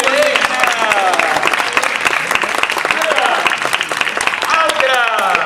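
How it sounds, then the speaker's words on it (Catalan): Audience at a riddle fair claps loudly and continuously, with lively cheering and children's voices calling out over the applause. "Un aplaudiment!"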